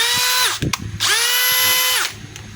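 A DeWalt DCD805 18V cordless hammer drill whines loudly at high speed driving a screw in two bursts, with a short pause and ratcheting clicks between them, then winding down.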